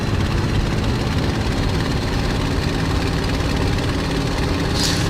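Bf 109G-6 engine in a flight simulator climbing over Duxford, a steady, loud propeller-engine drone filling the whole span without a break, no voices.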